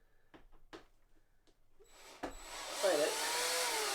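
A power screwdriver set to low torque drives a screw into a Samsung CHG90 curved monitor part, a short whirring burst after several light clicks and taps, near and fairly loud.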